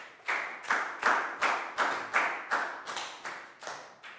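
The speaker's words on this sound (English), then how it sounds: "High five, big round of applause for Proud," A school class claps in unison for a classmate, giving about a dozen loud, evenly spaced claps in a steady rhythm, each with a short ringing tail.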